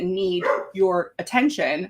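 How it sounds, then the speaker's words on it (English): A pet dog barks in short yips and bow-wows in quick bursts, close to the microphone, alongside a person speaking briefly. "And obviously that's my dog that needs the attention."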